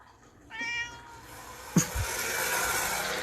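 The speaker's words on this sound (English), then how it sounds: "I hope you're hearing my cat." A pet cat meows loudly, a drawn-out cry heard near the start with another sharp yowl midway, set against a steady background hum and faint knocking noises.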